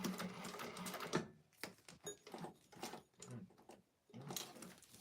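A sewing machine stitches along the folded side of a bowler bag in short bursts of rapid mechanical whirring, stopping and starting as the fabric pivots, close and fairly quiet, with no talking.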